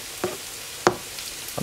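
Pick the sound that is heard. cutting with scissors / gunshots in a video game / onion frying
onion frying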